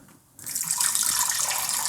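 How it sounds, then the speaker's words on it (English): Water pours steadily and splashes into a container of radish salted with sea salt for white kimchi brine, starting abruptly after a quiet moment and continuing close and loud. "We're gonna pour some water"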